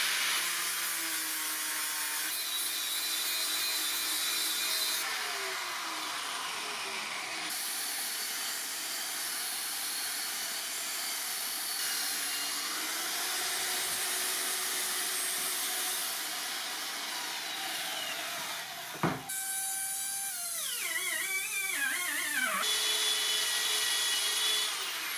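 A power tool trims sandwiched pieces for a sword build, a continuous close whining hiss with shifting tonal whirs, briefly interrupted by a sharp knock near the end before the grinding resumes.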